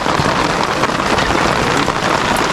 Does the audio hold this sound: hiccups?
no